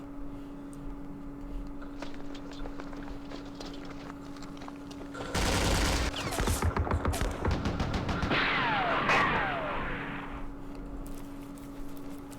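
Mortar fire from 82 mm tubes launching smoke rounds in the Vietnam wargame Campaign Series Vietnam at Dien Bien Phu: a loud burst of rapid reports and booms in the middle, with lighter crackling and a steady background hum on either side.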